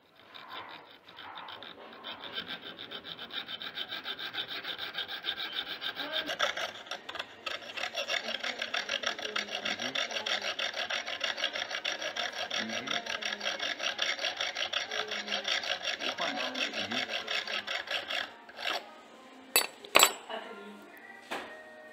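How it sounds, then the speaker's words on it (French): A hand file working the side of a wooden piece for a spring hook, a continuous gritty rasping of steady back-and-forth strokes, close and fairly loud, ending with a few sharp knocks. "Maintenant, nous allons limer le côté tiré."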